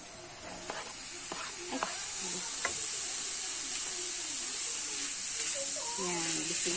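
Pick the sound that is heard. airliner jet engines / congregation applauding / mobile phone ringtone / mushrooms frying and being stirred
mushrooms frying and being stirred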